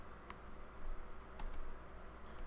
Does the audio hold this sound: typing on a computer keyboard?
yes